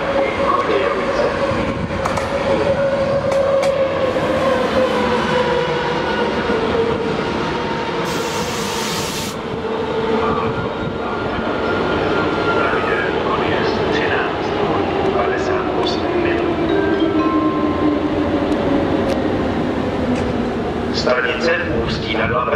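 The delayed Eurocity 174 train from Budapest moves through Ústí nad Labem main station with a long, loud rumble, wheel squeals and rhythmic clickety-clack, while a station announcement voice speaks over it.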